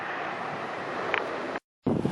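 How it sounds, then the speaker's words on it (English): Strong wind buffets the microphone at Mikros Vasilias beach on Skiathos, a loud continuous roar with possible surf beneath, broken by a short dropout before the gusting resumes. "It's rather windy just here."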